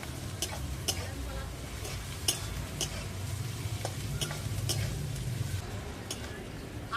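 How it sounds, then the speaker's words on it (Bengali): Snails and onion frying together in a pan while being stirred, a constant low sizzle under regular light taps and scrapes of the spoon, close and even throughout with no talking. "পেঁয়াজের সঙ্গে শামুকটা আমি নেড়ে চেড়ে তিন মিনিটের মতো ভাজবো"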